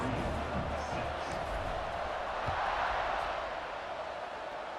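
Stadium crowd in the College Football 26 video game roars steadily as a broad, even wash of noise, with no distinct peaks or cheers standing out.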